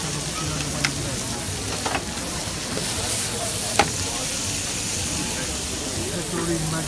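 Potato omelette sizzling and frying steadily on a griddle at an outdoor night market in Beaumont-du-Périgord, a continuous hiss with occasional scrapes and utensil taps, with market chatter and voices in the background.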